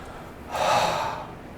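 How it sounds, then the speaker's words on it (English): A single deep breath drawn in close to the microphone swells audibly for about half a second, then fades. "So a couple deep breaths"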